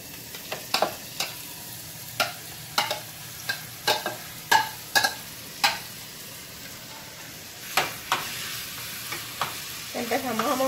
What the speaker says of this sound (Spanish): procedemos a moverla un poco para que se fría bien y continuamos echándole lo que es la carne molida